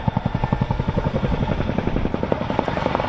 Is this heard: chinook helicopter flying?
yes